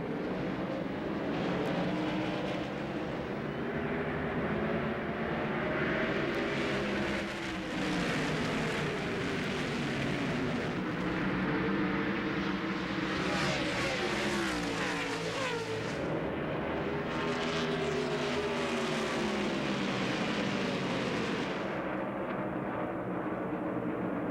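NASCAR Craftsman Truck Series race trucks roar at speed on the Pikes Peak oval as the field takes the green flag, a dense, continuous engine drone rising and falling as the pack passes.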